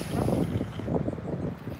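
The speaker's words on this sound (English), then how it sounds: "It's quite windy here" Steady wind gusts rumble across the microphone outdoors at a windy skating race course, a low continuous buffeting that swells and eases with no talk.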